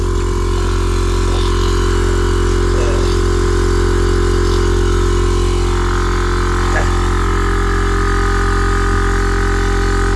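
A defective 200 PSI air compressor's electric motor pumps steadily, a loud continuous mechanical drone with a strong low hum that runs unbroken throughout.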